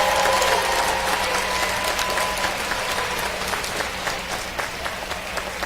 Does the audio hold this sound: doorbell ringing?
no